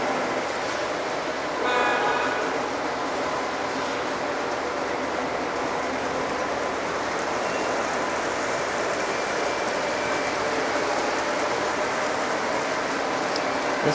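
Several Lionel model trains run around a layout together, making a continuous whirring, rumbling clatter of motors and wheels. The mechanical noise stays steady and fairly close, with no talking.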